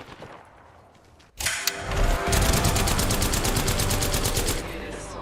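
Video game gunfire breaking out after a quiet start: a sudden burst, then sustained rapid automatic fire, loud and close, continuing for several seconds before easing slightly.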